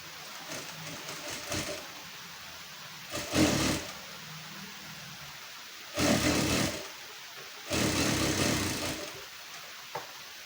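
Sewing machine stitching a blouse seam in short bursts, three or four whirring runs a second or so long separated by quiet pauses, close and fairly loud.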